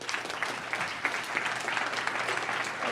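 Audience applause at a startup demo day, a steady wash of clapping from a sizeable crowd that holds at an even level throughout with no talk over it.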